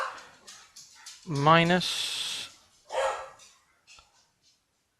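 A dog barks and whimpers indoors during a maths lecture, a rising yelping bark followed by a shorter bark, mixed in with a man's speech.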